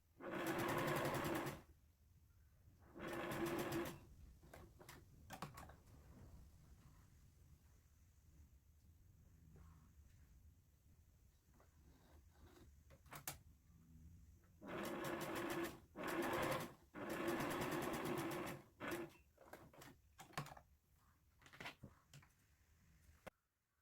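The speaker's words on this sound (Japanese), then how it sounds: "これは後でほどきますので、一番大きな針目で縫っておきます" A sewing machine runs the longest stitch length along a fabric pouch in loud whirring bursts of a second or two, separated by quieter pauses, with a few shorter runs near the end.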